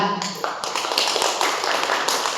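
A small audience at a Korean public funeral movement forum claps briefly as the next speaker is introduced, with sharp, uneven hand claps close by and talk mixed in.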